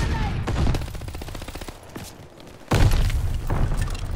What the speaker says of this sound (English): Watch this stun grenade.